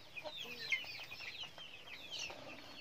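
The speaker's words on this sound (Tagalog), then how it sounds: "meron akong mga Rhode Island na mga sisiu dito" Soft peeping of Rhode Island chicks mixes with occasional clucks from chickens on a farm, faint and continuous, with no talking.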